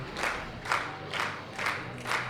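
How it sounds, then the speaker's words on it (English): A powerlifting crowd at the 2016 World Open Championships cheering on a woman attempting 190 kg, rhythmic rising shouts pulsing about every half second in a large hall. "The crowd's really getting behind her as well."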